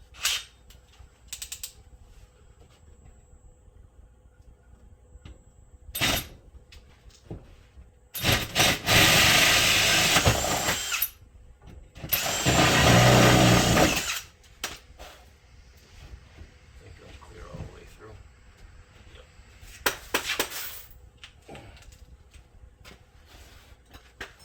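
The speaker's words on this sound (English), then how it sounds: "So I'm going to core drill it" A core drill bores a hole for a greenhouse gas heater pipe in loud grinding bursts, two long stretches and a few shorter ones, separated by quiet pauses with faint handling clicks.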